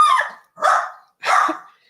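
Three loud, close barks from a Yorkie terrier, each sharp and yappy, evenly spaced with short silent gaps between them.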